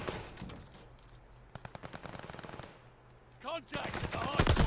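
Rapid automatic gunfire at a contested hardpoint in a Call of Duty match, quick bursts of moderate, slightly distant shots under game sounds and a brief voice near the end.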